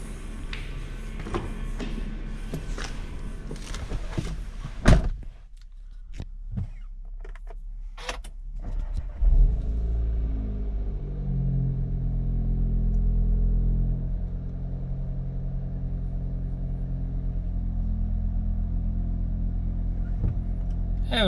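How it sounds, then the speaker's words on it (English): A Seat Cupra's petrol engine cranks and catches after a spark plug replacement, then settles into a steady, close idle rumble that holds for the rest of the clip with no talking. "And I can start the engine."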